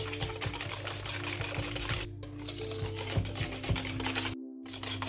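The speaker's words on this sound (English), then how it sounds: "Mix nicely together." Granulated sugar being mixed into cassava cake batter: steady, rhythmic gritty scraping and stirring strokes, close and moderately loud, continuing through the whole moment with no talk.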